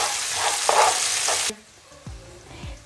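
Tomatoes fry with salt in a pan, a loud close hiss and sizzle with stirring scrapes that cuts off abruptly halfway, leaving a few soft low thuds in near silence.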